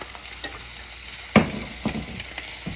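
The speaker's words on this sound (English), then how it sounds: "Sizzling." Low, steady sizzle of potato frying in a pan, broken by a few sharp scraping knocks as it is stirred, with no talking.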